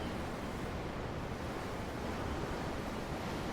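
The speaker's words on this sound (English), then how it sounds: "The ocean? Yeah. The waves." Ocean waves in the video game Tales of Arise roll in as a steady, soft wash of surf, a continuous hiss with faint wind, heard alone without speech.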